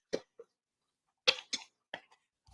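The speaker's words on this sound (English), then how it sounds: "I'm really coughing still." A few quiet, dry coughs in quick succession, close up in an otherwise silent room.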